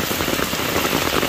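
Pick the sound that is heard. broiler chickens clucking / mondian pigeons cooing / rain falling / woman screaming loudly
rain falling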